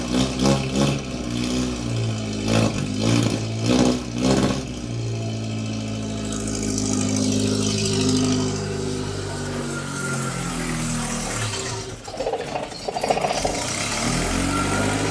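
Datsun 120Y car engine in a garage, cranking in a rapid stuttering burst before catching and settling into a steady, loud idle with slight surges, close by and with no talk.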